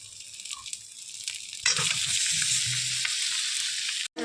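Man kochu (giant taro) with small pieces of shrimp hitting a hot pan, bursting into a loud steady sizzle and frying hiss that carries on without a break, with faint stirring clatter underneath.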